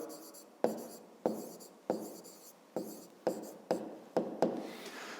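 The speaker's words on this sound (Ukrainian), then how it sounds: "Пишемо другий випадок." A pen writes on paper during a math lesson, a run of about eight quick, distinct strokes that each start sharply and trail off, close and clear with no speech.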